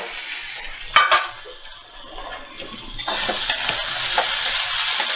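Kutri frying and being stirred in a pan on a medium flame, a soft steady sizzle with scraping stir strokes and a few sharp knocks, growing brighter toward the end.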